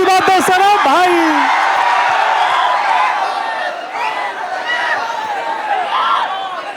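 A large crowd at an outdoor election campaign rally in Belaganj breaks into loud, sustained clapping and cheering, washing over a voice amplified at the start.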